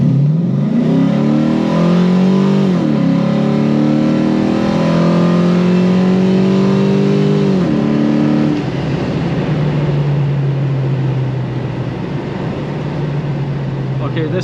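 A 1981 Chevrolet Malibu with an LS engine swap accelerates hard through several gear shifts, its pitch climbing and dropping in steps before settling into a steady cruising drone.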